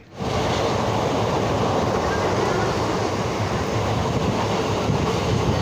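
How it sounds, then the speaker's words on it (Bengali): An express train rumbles along steadily on the rails, a continuous broadband roar with no breaks, close and loud from start to finish. "ট্রেনটা কম জোরে ছুটছে"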